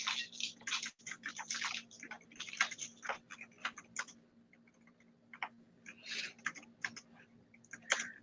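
Rapid clicking keystrokes on a computer keyboard, tapped in quick irregular bursts with brief pauses, close and moderately loud over a faint steady hum.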